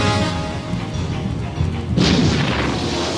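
Heavy booming naval gunfire from the battleship Bismarck with dense low rumble throughout, and a sharper, louder blast about two seconds in, all without speech.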